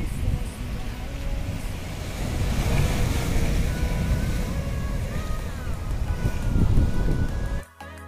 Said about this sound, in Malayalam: കടലിനടുത്ത് വന്ന് നോക്കുമ്പോഴേക്കും നല്ല രീതിയിൽ വീശി വരുന്ന തിരമാല